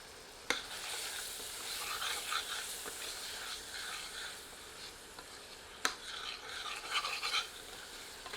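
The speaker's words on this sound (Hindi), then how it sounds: "आवश्यकतानुसार थोड़ा अतिरिक्त तेल मिलाकर 1 से 2 मिनट पुनः भूनते हैं।" Chopped onions with ginger-garlic paste fry in oil for a black chicken masala, giving a steady sizzle with scraping stirs and two sharp spoon knocks against the pan, close and fairly quiet, with no voices.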